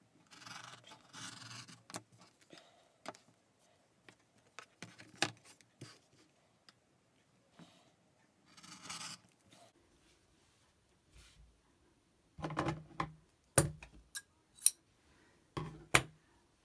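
Scissors snipping through fabric around a template for reusable face wipes, a series of quiet, close crisp cuts in irregular bursts, clustering into quicker snips toward the end.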